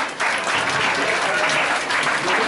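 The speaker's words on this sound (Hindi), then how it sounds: "तालियां बजाने चाहिए" Audience clapping at a school Janmashtami celebration, a dense burst of applause from many hands, loud and sustained for a few seconds.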